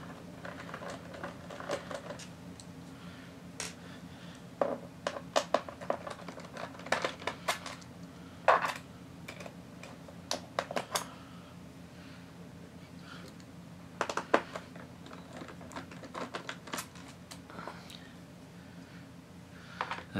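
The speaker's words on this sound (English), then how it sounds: "So let's just remove these screws." Screws being taken out of an Asus F555L laptop's underside, a series of faint scattered ticks, clicks and small metallic taps from a screwdriver and loose screws over a quiet hum.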